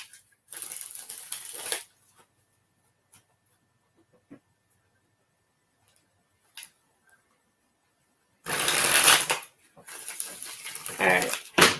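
Cards are shuffled in three quick, riffling bursts separated by quiet pauses during a live stream.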